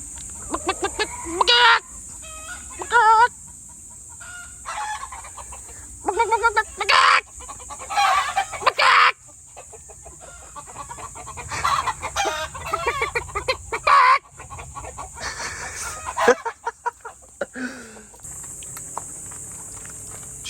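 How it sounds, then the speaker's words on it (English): Roosters crow and chickens cluck in repeated bursts all around, the calls close and loud and broken by short quiet gaps. "Roosters everywhere."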